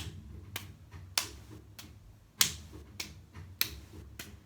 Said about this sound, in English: it's kind of like a clapping of the palms, but I'm just kind of sweeping